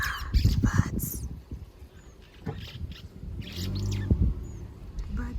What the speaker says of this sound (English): Birds are saying hi to us